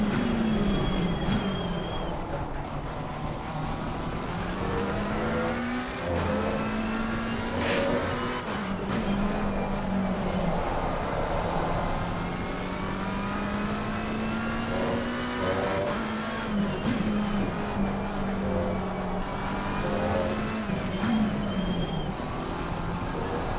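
A Ferrari race car in a racing simulator game on Fanatec hardware drones loudly and continuously, its engine note rising and falling through repeated upshifts and downshifts as it laps.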